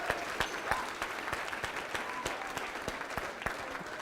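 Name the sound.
audience applause as six people join the stage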